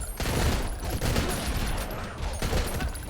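Pistol gunfire from the top-down action game Mr. Shifty, a dense, continuous volley of shots and impacts filling the whole stretch at steady loud level.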